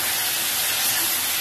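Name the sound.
vegetables added into hot oil sizzling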